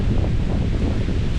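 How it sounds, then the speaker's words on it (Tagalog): A brief gust of wind buffets the microphone beside a rice paddy, a low, steady rushing rumble with no voices. "Yan, tumuto po ang hangin."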